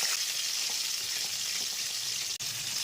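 Potatoes fry in hot oil in a pan for a crab curry, giving a steady, close hiss and crackle of sizzling that continues without pause except for one brief dip.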